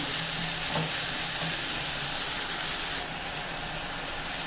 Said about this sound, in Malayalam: ഈ ഉള്ളി നമുക്ക് നല്ലതുപോലെ ഇളക്കി വഴറ്റിയെടുക്കാം.